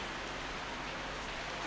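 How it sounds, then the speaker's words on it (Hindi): Rain falls with an even, dense hiss and patter that is steady and loud throughout the brief moment. "बारिश थी नहीं, पर बारिश कहाँ से आई"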